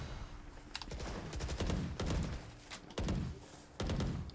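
Gunfire in a Valorant esports match, with several sharp shots and thumps spread irregularly through the clip, fairly quiet and distant-sounding, no talking.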